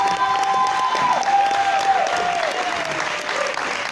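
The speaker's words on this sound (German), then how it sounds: "nochmal ein ganz, ganz großer Applaus für unseren Master of Disaster" A crowd at a concert evening gives loud, sustained applause with some cheering for the organiser, filling the whole stretch evenly.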